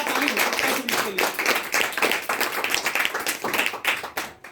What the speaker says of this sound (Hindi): बिल्कुल जोरदार ताली हो सकता है इसके लिए।